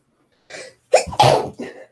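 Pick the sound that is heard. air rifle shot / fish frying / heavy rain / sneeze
sneeze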